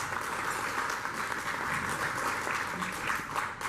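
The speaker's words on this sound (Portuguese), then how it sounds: "uma salva de palmas para ele, por gentileza" Audience applause for a speaker at a geology lecture, a steady wash of many hands clapping at moderate volume, uniform and sustained with no talking over it.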